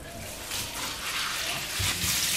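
Running water rinses Super 8 film during home reversal processing in Caffenol, a steady broadband wash of flowing liquid that holds evenly throughout at moderate level.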